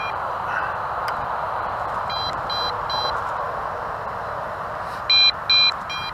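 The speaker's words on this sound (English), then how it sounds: "The transmitter beeping." A Snaptain SP700 brushless GPS drone transmitter beeps in short repeated bursts of two or three tones over a steady outdoor hiss, with a pair of louder beeps near the end.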